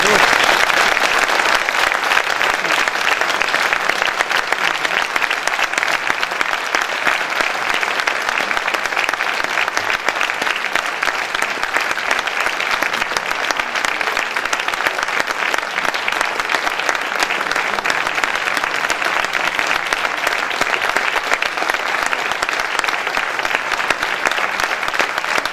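Sustained audience applause at an authors' evening in Verson, a dense, even wash of many hands clapping continuously and fairly loud throughout, with faint crowd murmur beneath.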